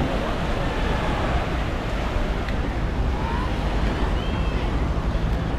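Sea waves at a beach on a clear day, a steady broadband wash of surf with wind buffeting the microphone throughout, loud and continuous with no distinct breaks.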